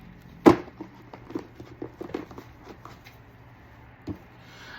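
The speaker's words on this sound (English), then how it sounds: "So it fell on top of this deck, so I'm gonna shuffle it and clarify." A deck of tarot cards being shuffled by hand, a sharp slap up front followed by a run of soft riffling clicks and taps, with one more distinct knock near the end.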